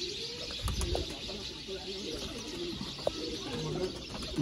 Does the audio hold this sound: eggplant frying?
no